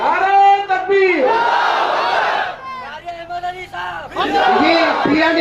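A large crowd at a religious gathering roars a takbir chant in answer to a slogan call, loud massed voices rising in several surging waves with a lead voice between them.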